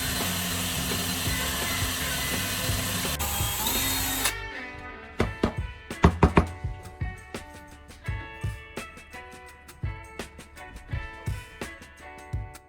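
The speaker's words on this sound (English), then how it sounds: "drill from the other side until the two holes meet" A power drill bores holes through a wooden axe handle, first a loud continuous whir, then a series of sharp bursts and knocks as the bit is restarted from the other side, close and alone without talk.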